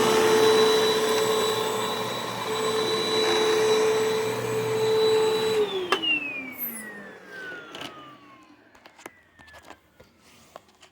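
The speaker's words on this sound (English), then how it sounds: "I'm gonna suck up the throw rug again" A Hoover Mach5 vacuum cleaner runs with a loud, steady whine for several seconds while sucking up a throw rug, then the motor is switched off and winds down in a falling tone, leaving scattered clicks and handling noises.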